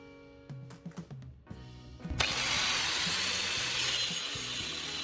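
An angle grinder fitted with a custom steel-plate saw blade cuts into a piece of wood held in a vise, starting with a few short bursts and then a steady, loud, close whine with no talk.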